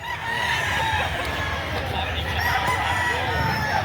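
Roosters crow loudly and continuously at a busy chicken market in Lipa, Batangas, with overlapping calls and clucking from many fowl filling the dense, noisy scene.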